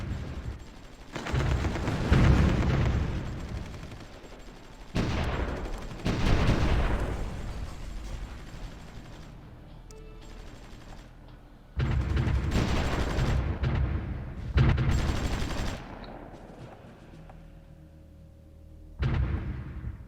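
Artillery fire in the strategy game Supreme Ruler Ultimate: several loud, booming salvos of several seconds each, repeating at irregular intervals with rumbling decay between them, no talking.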